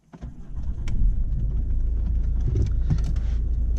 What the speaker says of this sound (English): So start the car at normal.